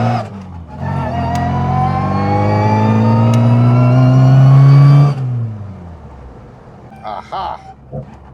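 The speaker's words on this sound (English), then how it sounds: "the soundtrack of this car is quite extraordinary" An MG Midget with a Lenham Le Mans GT body revs its engine hard and close, the note climbing steadily for several seconds before dropping off, followed by brief bursts of voices.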